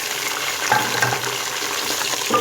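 Chicken pieces fry with golden browned onions in a pan, a steady sizzle with a few stirring scrapes and clinks over it, close up and fairly loud.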